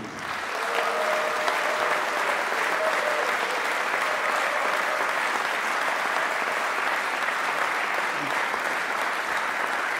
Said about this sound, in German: Ich möchte nochmal um einen großen Applaus bitten für den wunderbaren Jim McNeely.